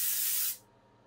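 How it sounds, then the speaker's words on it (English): A single continuous burst of Sam McKnight texture spray onto hair, a bright close aerosol hiss lasting about half a second before cutting off to near silence. "I do put just a tiny bit of hairspray in it. And this is a texture spray by Sam Mcknight."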